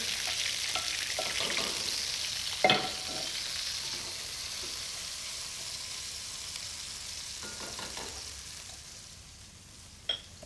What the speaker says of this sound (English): So now I put that in a pot with the onion.